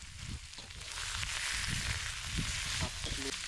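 Curry paste for a beef curry with turmeric shoots fries in a pan at a campsite, giving a continuous close sizzle and crackle with occasional stirring scrapes.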